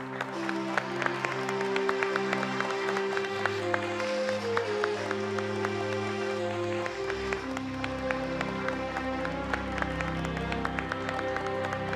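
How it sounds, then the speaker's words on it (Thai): An audience applauds to welcome the heir of a mansion, with steady clapping running throughout, set under sustained swelling music that plays loud the whole time. "ขอเสียงปรบมือต้อนรับคุณนายนาทีศักดาดำ"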